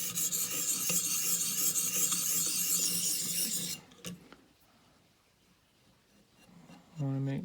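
A file rasps steadily and loudly across the blades of grass-cutting shears, working the heel and tip to raise a burr, then stops abruptly around the four-second mark and leaves near-quiet, with a voice starting at the end.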